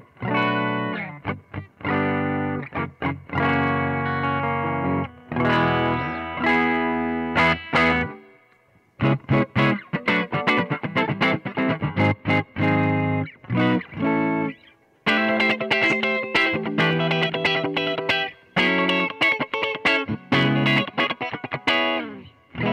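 A clean, undistorted electric guitar played through an amplifier and picked up only by a close mic on the amp with no room sound: strummed chords and picked notes in bursts with brief pauses, loud and upfront.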